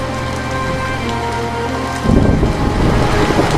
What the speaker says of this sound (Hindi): फिर सुशील भारी वर्षा में छाता लेकर काम की तलाश में बाजार की ओर निकल जाता है